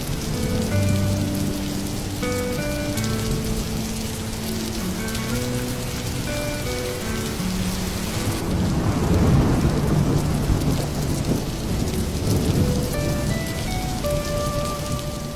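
Heavy rain pours steadily onto surfaces during a thunderstorm, with a deep rumble of thunder swelling midway, all set against a melodic music backdrop.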